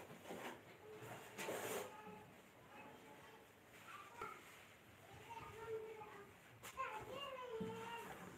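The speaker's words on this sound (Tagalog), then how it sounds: "ingay ng mga bata" Children make noise while playing, with chatter and shouts rising and falling over several seconds at a moderate distance. A faint hiss runs underneath.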